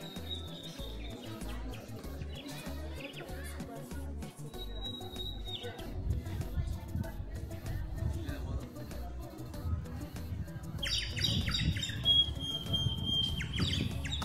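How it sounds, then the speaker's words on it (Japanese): A man in a market area of Khiva, Uzbekistan blows a bird call whistle, giving thin high chirping tones in short bursts over busy crowd chatter and background noise, louder and more sustained toward the end. "この鳥はね、あのおじさんがね、吹いてますよ。"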